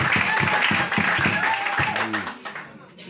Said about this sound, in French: Applaudissez pour Ndobiane.